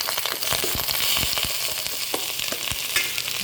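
Washed basmati rice frying with tempering in a pan over low flame, a close, continuous sizzle with scraping stir strokes throughout.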